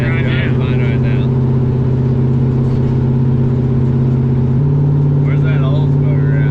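Turbo LS-swapped Oltsmobile Cutlass driving along with a steady, droning engine hum that shifts pitch partway through, with people talking over it inside the car.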